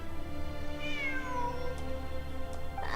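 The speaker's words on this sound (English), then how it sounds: "It really is a cat." A cat in the video game Snowbreak: Containment Zone gives a single drawn-out meow that bends downward in pitch. It is clear and fairly close against a faint steady hum, and no voices are heard.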